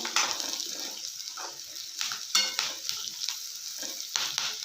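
Sliced onions stir-fried for a simple onion palya, with a continuous bright sizzle and frequent scraping spoon strokes against the pan, close and fairly loud throughout.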